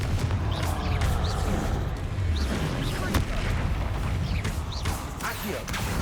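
Explosive fire spell in the Hogwarts Legacy video game: rumbling booms and bursts layered over a constant dense battle din, with spoken voices under the noise.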